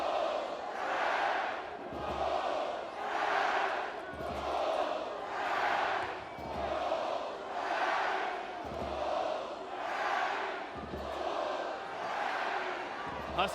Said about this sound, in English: This crowd has not relented, trying to once again get the boys in white going.